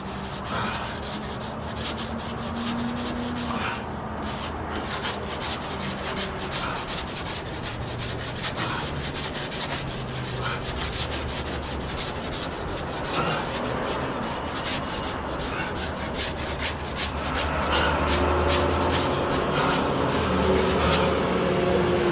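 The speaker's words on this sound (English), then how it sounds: "It's done sanding. It's all done. It's nice and sanded." A drywall patch is sanded by hand, a steady back-and-forth rasping scrape repeating in a continuous rhythm for the full length, close and fairly loud, with no voices.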